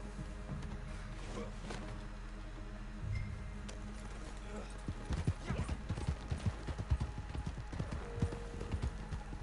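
Horse hooves clip-clop in the Red Dead Redemption video game, a steady quick rhythm that picks up and grows louder in the second half over a constant ambient hum.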